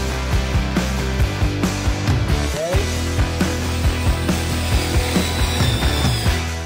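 A small cordless USB-C rechargeable single-speed drill runs in steady bursts, screwing a bell fitting into place with a repeated ratcheting, clicking whir close by, no talking.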